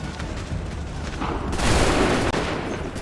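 Musket volley gunfire from a line of soldiers in Assassin's Creed 3, a dense crackling burst swelling to a loud roar midway over continuous battle noise.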